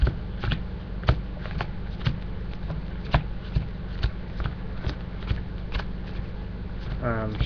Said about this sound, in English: Shuffle, 6-card shuffle